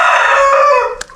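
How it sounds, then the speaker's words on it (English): A rooster on a chicken farm in Norton near Harare, Zimbabwe, gives one loud, close crow that ends abruptly, followed by a short cluck. "That's chickens, right?"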